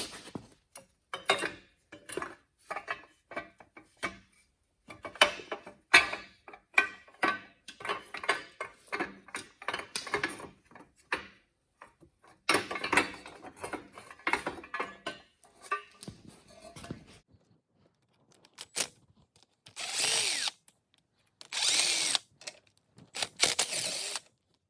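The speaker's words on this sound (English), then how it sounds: "I'm going to work on getting this carburetor off" Hand tools clink and tick against metal while the carburetor and valve cover come off a Honda 400EX ATV, a busy run of irregular close taps and scrapes, with a few louder rattling bursts near the end.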